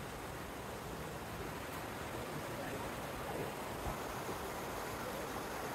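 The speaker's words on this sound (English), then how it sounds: "This is not a river, this is definitely a creek" A mountain creek, Moose Creek, rushes steadily down the slope near an abandoned mine, a faint, even broadband wash of flowing water with no other sounds.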